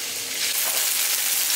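Garlic frying in a pan, a steady bright hiss of sizzling oil up close for a short moment.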